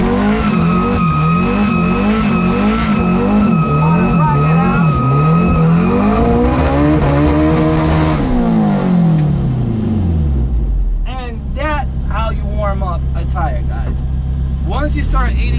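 Car tire burnout held on line lock in first gear, engine roaring loudly and steadily with tires squealing throughout, revs dropping off near the end before someone talks over the idling engine.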